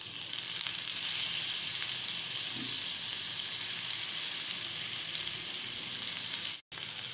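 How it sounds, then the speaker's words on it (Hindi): Caramel in a pan sizzles and hisses steadily as milk is poured in a little at a time, a constant close frying noise with a brief dropout near the end and no voices. "अब थोड़ा थोड़ा करके दूध डालेंगे।"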